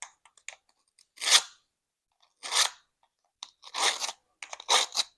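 Dull craft scissors bought from Temu cut through material in several separate crunching snips, close and crisp, with quiet gaps between them.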